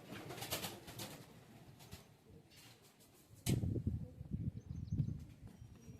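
Pigeons coo in a large low-flyer loft in Panchagaon, Akola, Maharashtra; soft, low throaty cooing swells near the close amid quiet rustling.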